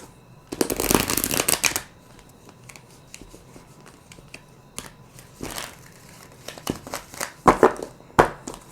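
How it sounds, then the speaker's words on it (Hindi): A deck of tarot cards is shuffled by hand, starting with a loud, close riffling burst, then lighter scattered flicks and a few sharper shuffles near the end, with no talking. "Last shuffle."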